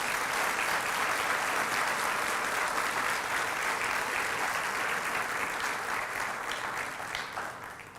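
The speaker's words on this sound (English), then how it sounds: "Let's join in a round of applause for our colleagues" An audience gives a long round of applause for college staff at the Middlesex College fall 2023 convocation. The clapping is even and continuous, tapering off in the last second.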